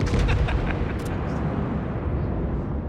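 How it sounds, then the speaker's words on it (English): Warship Nelson firing a broadside in a naval video game, a loud sustained rumble of heavy gunfire with a few sharper reports early on. "There was some broadside on the Nelson."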